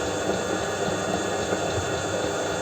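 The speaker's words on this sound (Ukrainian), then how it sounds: "Я трошечки капаю водички. Геть капельку." A little water trickles and splashes into a dry homemade compound feed mixture, giving a steady soft watery rush at moderate loudness with no voices.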